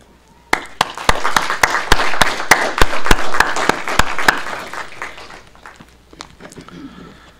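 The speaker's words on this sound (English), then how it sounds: "a round of applause." A church congregation applauds, with loud, evenly spaced claps building quickly over a dense bed of clapping, then thinning and fading away after a few seconds.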